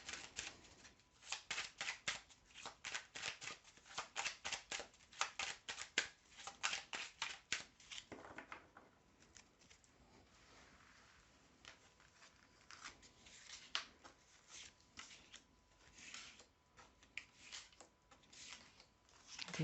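Playing cards being shuffled over and over in a tarot or card-reading session, a dense run of crisp riffling bursts, then a quieter stretch, then more riffles, close and alone without talk.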